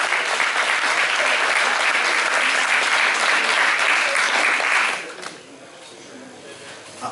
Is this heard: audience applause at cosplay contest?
yes